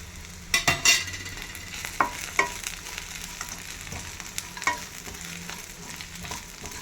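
Poppy seeds and star anise roasting with onion in a hot pan, a low steady sizzle with a few clinks of a spoon stirring and scraping, close by and fairly quiet.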